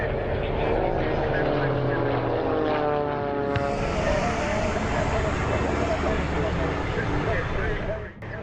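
Boeing Stearman propeller biplanes at an aerodrome air show, a loud continuous engine and propeller drone with a rising then falling pitch sweep as an aircraft passes close, with voices talking underneath.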